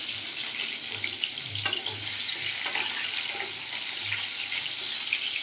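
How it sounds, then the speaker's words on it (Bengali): Potatoes fry in a pan in a home kitchen, giving a steady, close hiss and sizzle with no talking. "এই যে এখানে আলু ভাজতে বসিয়ে দিলাম"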